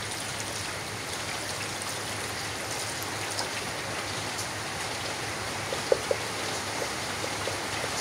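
Steady rain falls outdoors in a village, where chickens are kept, as an even, close wash of hiss with a couple of faint drips or knocks and no voices.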